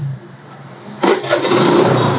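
A single-owner 2015 TVS Jupiter scooter engine starts about a second in, a sharp crank catching into a steady, close idle that hums on to the end, alone with no talk.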